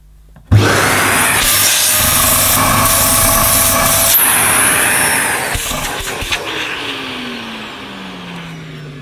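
A Zucco bagless, egg-shaped vacuum cleaner starts abruptly and runs loud and close with its hose end blocked, a steady strained roar that changes pitch partway through, then begins winding down.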